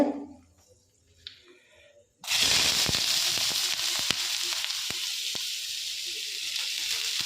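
A few fenugreek seeds dropped into hot oil burst into a sudden loud sizzle after a quiet moment, then crackle steadily with sharp little pops close by.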